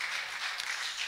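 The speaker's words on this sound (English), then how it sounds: "Give him a hand clap of praise before you're seated." A church congregation clapping hands in praise, a steady wash of many hands together, fairly faint and even throughout with no clear voices.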